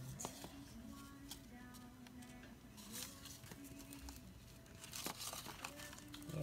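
A paper envelope is handled and opened nearby, with soft crinkling and rustling in irregular bursts over a quiet room.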